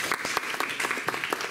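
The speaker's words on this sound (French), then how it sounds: "On peut l'applaudir." Applause from an audience at a conference on European Union enlargement, a dense, steady patter of many hands clapping for a short moment as the next speaker is welcomed.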